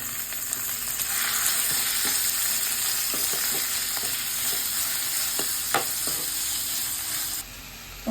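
Grated beetroot hits hot oil with tempering spices for beetroot pulihora, giving a loud, steady sizzle close to the mic, dotted with scattered spoon clicks as it is stirred, and no talking.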